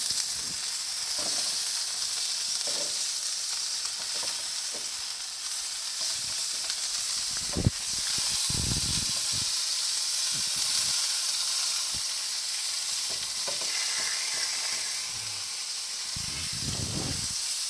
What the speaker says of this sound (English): We are now going to flip the burger.